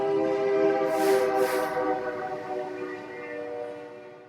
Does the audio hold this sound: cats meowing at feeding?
no